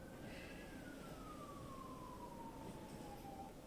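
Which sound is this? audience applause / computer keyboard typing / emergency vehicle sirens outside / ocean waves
emergency vehicle sirens outside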